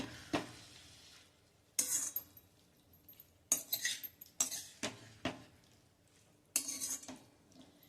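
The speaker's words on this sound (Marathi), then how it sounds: "हे व्यवस्थित हलवून घ्यायचंय" Finely chopped tomatoes, half a kilo for a sweet-and-sour chutney, are stirred in a pan with a metal spoon: scattered scraping and clinking strokes with soft sizzling between them, close and moderately loud, no talking.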